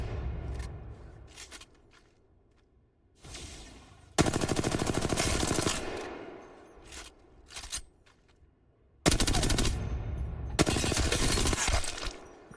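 Gunfire in the Apex Legends video game, sharp bursts of automatic shots in two long loud volleys with scattered single cracks and quieter gaps between them.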